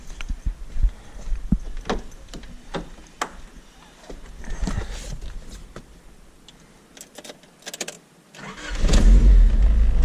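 A car with its battery relocated to the trunk cranks and fires up near the end, the engine catching into a loud, close idle after quiet shuffling and jangling keys.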